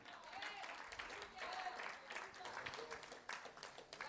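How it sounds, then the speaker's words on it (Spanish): Congregation applause in a church during a sermon, a steady mass of clapping filling the room for about four seconds, moderately loud and continuous with a preacher's voice breaking through. "Dele un aplauso a Jesús"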